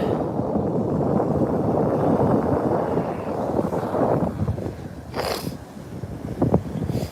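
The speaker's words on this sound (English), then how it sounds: "You can probably hear the wind a little bit." Steady wind buffeting the microphone on a beach by the sea, a constant rushing roar with a few brief bumps near the end and no talk.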